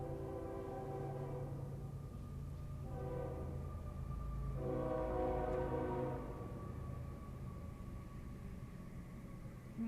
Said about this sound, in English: and of course the train is here.